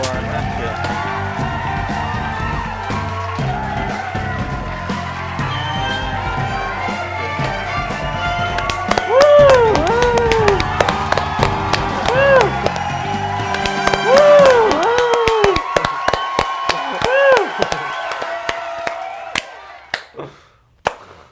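Sharp, close hand claps on a talk-show set come in quick irregular bursts partway through, loud and crisp, mixed with background voices and a crowd-like murmur before fading out.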